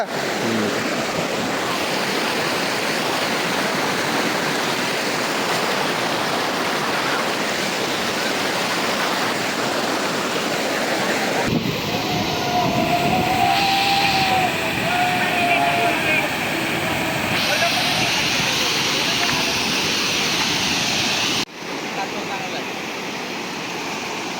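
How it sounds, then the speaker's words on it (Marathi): A main waterfall roars steadily and close by as a constant broad rush of falling water, with people talking over it in the middle stretch. "तो मेन वॉटरफॉल आहे, धबधबा."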